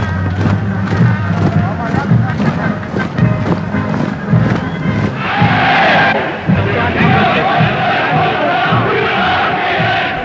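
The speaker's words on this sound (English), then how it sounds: "Adolf Hitler leaves Hotel Kaiserhof in Berlin among a cheering crowd of supporters" A large cheering crowd of supporters greeting Adolf Hitler outside Hotel Kaiserhof in Berlin, a loud, dense roar of voices with rhythmic shouts, swelling into a sustained outcry, against wind noise on the microphone.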